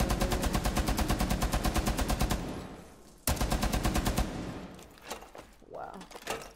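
Tachanka's machine gun fires in Rainbow Six Siege in two long, rapid bursts of evenly spaced, loud shots, with a brief pause between them, followed by softer in-game clatter and a voice speaking near the end.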